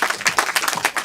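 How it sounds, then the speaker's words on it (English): Short burst of audience clapping at the end of an improv graduation show, a few uneven claps close together with no talking. "Another round of applause for both of our teams."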